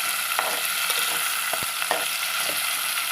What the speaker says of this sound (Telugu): టమాటా కూడా మెత్తగా వాడుకోవాలి.